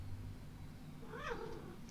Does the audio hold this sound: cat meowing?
yes